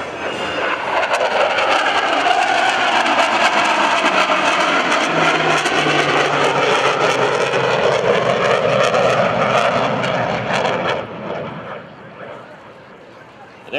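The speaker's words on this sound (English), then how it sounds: "a surprise visit by the FA-18 Hornet" An F/A-18 Hornet jet at the 2011 Boston Portsmouth airshow, a loud sustained roar of jet engines passing close overhead for about ten seconds, then fading away.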